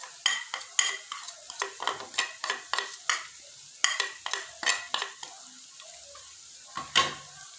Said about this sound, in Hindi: जो साबुत गरम मसाला था वो इसमें मैं ऐड करने लगा हूँ।